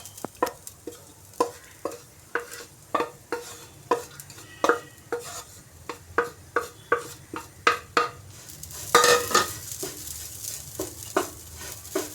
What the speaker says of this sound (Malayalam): ഇതിലോട്ട് നമുക്ക് തേങ്ങ ഇട്ട് കൊടുക്കാം.